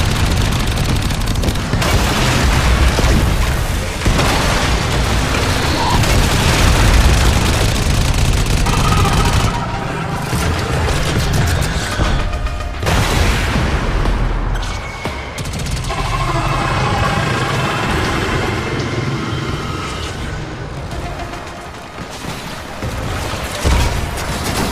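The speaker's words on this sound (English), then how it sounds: "I've only got a few mortars left. Firing them all." Mortars firing and exploding in the Warframe game during a Fortuna Profit-Taker fight, a dense, loud, continuous barrage of booms and rapid gunfire blending together throughout, with brief lulls.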